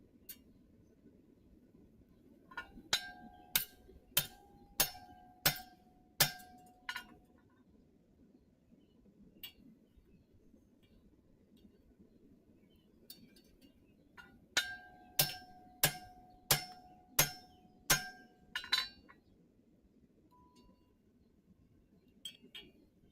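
A hammer strikes a hot metal scroll on an anvil in two quick runs of about eight ringing clinks each, bright and close, with a quiet pause between.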